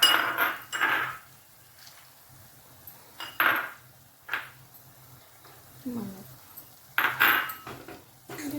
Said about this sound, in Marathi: आता मी त्याच्यात हे ड्रायफ्रूट्स पण टाकते